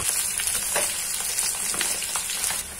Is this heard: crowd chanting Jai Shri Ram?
no